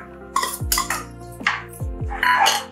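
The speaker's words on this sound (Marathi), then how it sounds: "गूळ घालून ढवळत" A spoon stirs jaggery into boiling moong dal kadan in a metal pot, making several close, ringing clinks and scrapes against the pot in uneven succession, with no talk.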